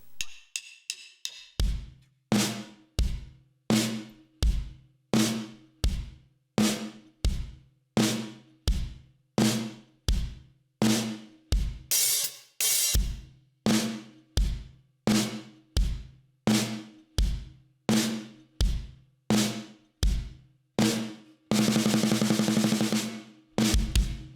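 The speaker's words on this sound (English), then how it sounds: "we've got like a kick and snare pattern" A steady, slow half-time drum kit groove of alternating kick and snare hits, evenly spaced and fairly loud, ending with a sustained crash or noisy wash.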